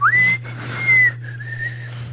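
A person whistles a melody, a clear sustained tone that glides up at the start then holds and wavers across a few short phrases, close and alone over a steady low hum.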